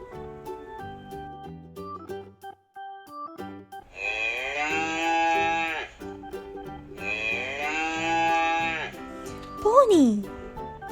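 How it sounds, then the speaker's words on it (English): A cow and calf moo in two long, drawn-out calls, followed by a shorter rising call, all heard fairly close and clear. "Cow and calf."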